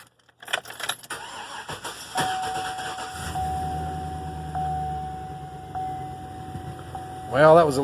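A 6.0 V8 in a Chevrolet 2500 HD pickup with a lifter tap cranks briefly and catches. It settles into a steady, close idle, with a few clicks and a rattle near the end.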